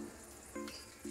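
Bay leaf, dried red chillies, cinnamon, cardamom and white cumin hit hot oil left from frying potatoes for a Kashmiri dum aloo gravy, giving a brief, steady close sizzle.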